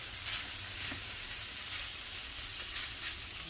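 Shrimp sizzling in a hot pan while Filipino pancit noodles cook, a steady close frying hiss without a break and no talking over it.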